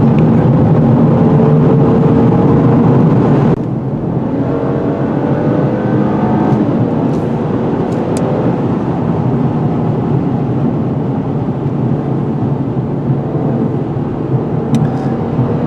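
Loud, steady engine roar from a 2019 Mercedes-Benz E450 4MATIC Convertible pulling hard in sport mode, with a sharp shift in tone early on and continuous road and wind noise throughout, no talking.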